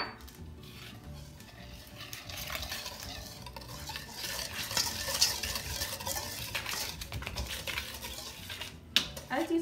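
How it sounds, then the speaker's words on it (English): A whisk stirs dry ingredients for vegan donuts in a bowl, producing a soft, continuous scraping and swishing with light clinks of metal on the bowl, close and fairly quiet throughout. "I got my whisk, and now we are ready to mix together all of our dry ingredients"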